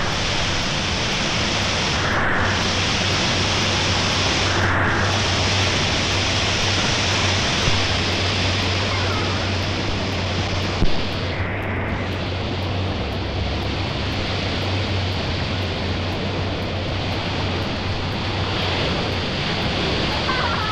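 A waterfall at Khao Yai in Thailand roars as a dense, constant rush of falling water, loud and close, with no letup throughout.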